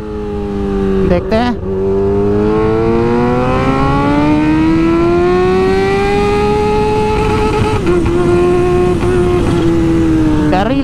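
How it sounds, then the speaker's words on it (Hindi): Kawasaki H2 Carbon motorcycle pulling hard at full throttle in second gear, a loud sustained engine howl climbing steadily in pitch with a brief dip near the start and another around eight seconds, with a voice speaking briefly over it. "सेकंड गियर फुल थ्रॉटल, फिर से देते हैं"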